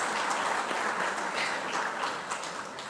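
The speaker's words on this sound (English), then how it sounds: "please give them a rounding applause" A standing audience in a legislative house claps steadily through a budget speech session, a thick, continuous patter of hands without pause.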